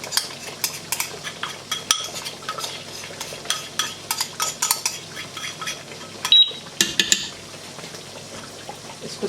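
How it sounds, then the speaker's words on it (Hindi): A spoon stirs almond paste into chicken cooking in ghee, giving repeated close metallic scrapes and clinks against the pot over a faint sizzle, in an uneven rhythm. "इसको इसके साथ अच्छी तरह पहले मिक्स कर लें"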